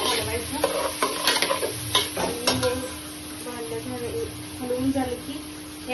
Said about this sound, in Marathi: बघा हे असं हलवायचं आणि